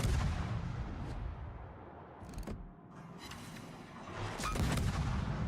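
Warship main battery guns fire in World of Warships, several deep booming shots over a steady low rumble of background noise, some shots overlapping and the last of them loudest.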